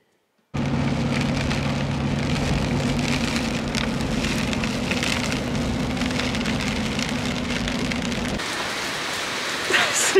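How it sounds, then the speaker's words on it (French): Heavy rain downpour on a supermarket car park, a steady dense hiss with a low drumming rumble that runs continuously, then thins slightly near the end. "C'est le déluge."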